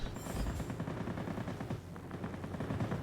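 Aircraft machine guns in a World of Warplanes dogfight, Spitfire Vb, chattering in a dense continuous burst of rapid reports over steady engine drone, loud and close throughout.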